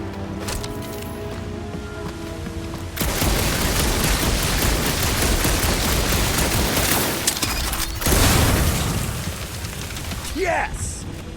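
Sustained heavy gunfire in Guardians of the Galaxy, a dense continuous barrage of shots with a brief pause before a second burst, loud and close under game sound.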